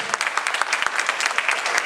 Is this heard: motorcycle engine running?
no